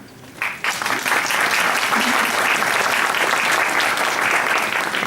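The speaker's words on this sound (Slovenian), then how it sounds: "Verjetno bo ta aplavz bolj dobrodošel za naše inovatorje." Dense, steady audience applause fills a forum hall at a Slovenian innovation event, honoring the innovators. It swells in after a brief quieter moment and holds loud and continuous to the end.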